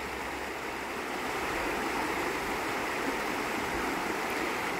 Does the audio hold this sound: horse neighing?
no